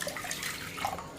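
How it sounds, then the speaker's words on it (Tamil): Water pours steadily with a gurgling, splashing trickle into a cup for a ragi flour recipe, moderately close and fairly quiet. "அதே கப்பில் இப்போ நம்ம 2 கப்பு தண்ணி ஊற்றிக்கிடுவோம்."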